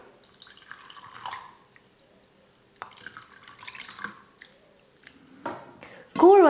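Ragi porridge is stirred and mixed with curd and water, giving soft wet sloshing, squishing and dripping sounds in short bursts that grow louder toward the end.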